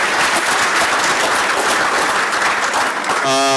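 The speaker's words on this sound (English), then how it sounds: "let's have a big round of applause for our outstanding town clerk, Nazarene Ahmed, and her staff" A dense burst of audience applause fills a town celebration hall for a Ramadan iftar, honoring the town clerk and her staff; steady and loud throughout, with a voice starting to speak near the end.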